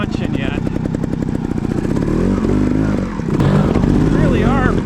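A trials motorcycle's engine revs and chugs on a creek trail, a loud, steady throttle with rising and falling pitch through the whole stretch, surging harder near the end.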